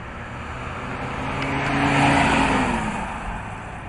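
A Mercedes car drives along an open road with a steady engine hum and tyre roar that swell to a peak midway, then ease off. No one talks.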